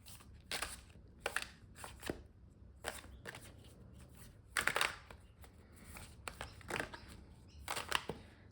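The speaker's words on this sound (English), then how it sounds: "Let's see what else we get as I continue to shuffle cards." Tarot cards are shuffled in repeated quick riffles and snaps, crisp bursts spaced about a second apart, close and fairly quiet with no talking.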